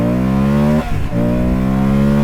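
A 2024 Moto Guzzi Stelvio motorcycle launching hard, its engine howling loud and close with a rising tone, a brief dip at the gear change, then pulling strongly again.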